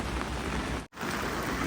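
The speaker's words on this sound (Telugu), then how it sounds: "టప టప టప టప అని వస్తుంది వాటి మీద పడుతూ ఉంటాయి నీళ్ళు" Rain falls steadily on polyhouse roofs on a farm in a dawn downpour, a dense continuous patter, broken once by a brief dropout.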